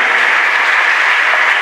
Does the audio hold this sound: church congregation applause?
yes